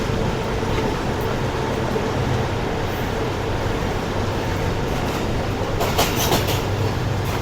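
A packed Subak Raftar railcar train crosses a bridge over the Ravi river with a steady, loud rumble and rhythmic wheel clatter. Sharper metallic clanks come in near the end.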